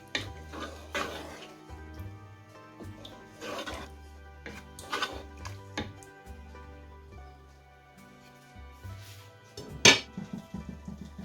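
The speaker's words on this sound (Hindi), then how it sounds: "इसको अच्छे से मिक्स कर लेंगे।" Cream being stirred into chicken malai gravy with a metal spoon in a pan, a series of close clinks and scrapes in irregular bursts, one sharper knock near the end, no one talking.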